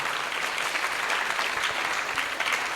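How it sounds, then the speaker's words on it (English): An audience at a Bhagavad Gita class gives a round of applause, a steady, moderately loud crackle of many hands clapping together in a hall, continuous and fairly even from start to finish. "please give them a round of applause"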